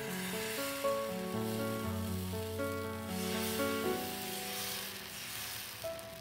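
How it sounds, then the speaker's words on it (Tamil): Oats uthapam batter with onion and tomato on a hot griddle, a soft, steady sizzle held low beneath prominent melodic background music throughout. "இப்போ ஊத்தப்பம் ஊற்றிடலாம்"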